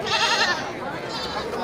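Goats bleating at a livestock market where goats and sheep are sold, a couple of wavering nasal cries close by, with crowd chatter and voices underneath.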